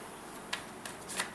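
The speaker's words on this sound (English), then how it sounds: "I'm gonna shuffle again" Tarot cards are shuffled in a few short, soft riffling bursts, quiet and close, with near-silence between them.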